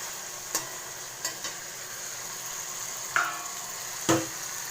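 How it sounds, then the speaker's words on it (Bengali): Diced potatoes fry for ghugni with a steady soft sizzle, punctuated by several sharp clinks and scrapes of stirring against the pan, close and fairly quiet. "আলুগুলো এবার ভাজা হবে।"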